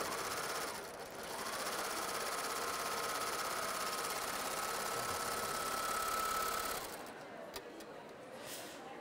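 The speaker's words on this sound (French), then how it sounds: "je vais piquer de l'organza et je n'aurai que le plaisir de coudre" Baby Lock sewing machine stitching organza, giving a rapid continuous hum for about six seconds with a faint whine above it, then stopping amid a quiet background.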